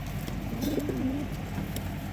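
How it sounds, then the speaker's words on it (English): A Black City Tippler pigeon gives one low, drawn-out coo that rises and then falls. It sounds close, over steady background noise. "This is the Black City Tippler."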